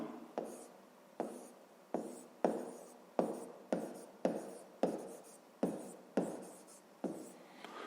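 Pen or marker writing a math expression for a fifth-grade exercise: about a dozen evenly spaced strokes, each a sharp tap followed by a fading scratch, close and quiet with no voice.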